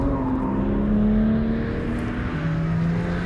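A BMW sports car with a manual gearbox and very short wheelbase powers out of a second-gear hairpin, its engine note loud and close, the pitch climbing steadily and holding strong throughout.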